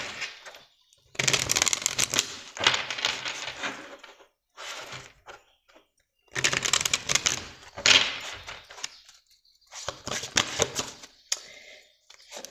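Oracle cards of light shuffled by hand in several separate bursts of dense, papery riffling and flapping, close and fairly loud, with short pauses between rounds and no speech.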